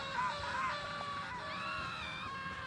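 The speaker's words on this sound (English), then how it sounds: "They're all screaming." Roblox characters scream together in a high, wavering chorus as they sink into sand, a sustained cluster of shrill voices lasting a few seconds.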